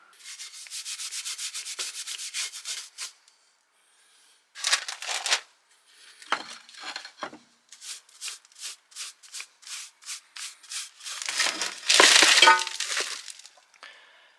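Fire bricks lifted and set back into a narrowboat stove, a series of gritty scraping, rubbing knocks and clinks in bursts, close and fairly loud, with brief pauses between placements.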